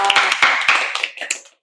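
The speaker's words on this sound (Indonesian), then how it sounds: "Tepuk tangan dong." Short burst of hand clapping from a school audience at a poetry book event, several sharp claps close by that thin out and fade within a second or two.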